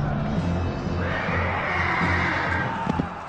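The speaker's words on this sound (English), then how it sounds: "the auxiliaries kill the barbarian horses" Horses whinny and neigh through a battle scene in which Roman auxiliaries kill barbarian horses during the conquest of Britain, with cries rising over continuous dense noise and hooves clopping underneath.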